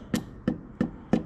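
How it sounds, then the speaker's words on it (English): Four evenly spaced hammer taps driving a piston down into its cylinder sleeve during a John Deere 4840 tractor engine overhaul, each a sharp close metallic knock with short ring, alone without talk. "Take your hammer, pop her down"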